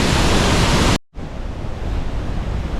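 Athabasca Falls in Jasper National Park, Alberta, thunders as a loud, dense wall of rushing white water, broken by a brief cut before the steady roar resumes.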